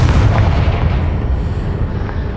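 A Confringo fire spell bursts in Hogwarts Legacy, a loud, deep explosive boom that rolls on as a rumbling blast across the whole moment with no talking.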